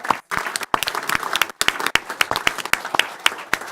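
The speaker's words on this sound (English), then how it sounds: "Let's give these talented kids a round of applause." A small audience at a meeting claps for a group of talented kids, a few seconds of brisk, uneven clapping close by with sharp individual hand claps, briefly broken by a short gap.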